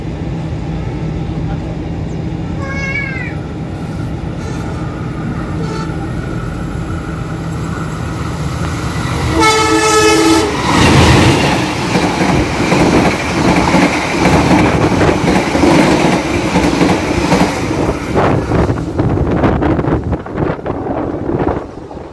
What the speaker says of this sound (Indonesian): Oke, kereta api Kahuripan akan melintas langsung di stasiun Minggiran.